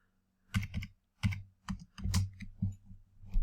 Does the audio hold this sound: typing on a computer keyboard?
yes